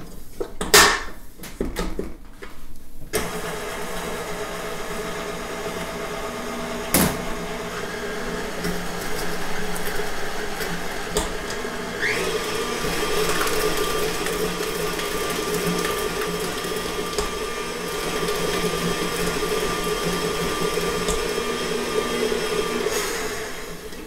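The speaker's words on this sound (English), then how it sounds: "we're just going to mix these up until they're nice and smooth" An electric mixer whirs steadily as it beats a cheese filling with lemon juice and homemade vanilla, a loud continuous drone that shifts pitch slightly partway through, following a few knocks at the start.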